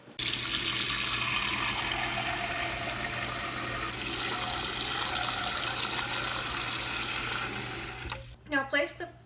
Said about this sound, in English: cover them with cold water